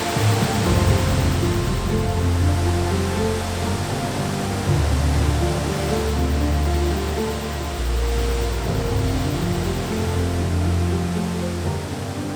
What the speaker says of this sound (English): It's a single drop waterfall.